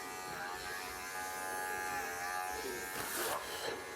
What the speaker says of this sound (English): Straight back, and that gives me a beautiful smooth finish no matter which direction I'm shaving.